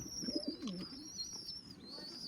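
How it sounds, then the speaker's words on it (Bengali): Nakhtana pigeons from Khulna coo softly in a low, rolling burble, close by, under a constant high-pitched whine in the background. "আমাদের খুলনার যে বিখ্যাত নাকটানা কবুতর"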